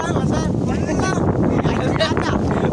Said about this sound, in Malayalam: ഭയങ്കര പൊടിയും ഭയങ്കര കാറ്റും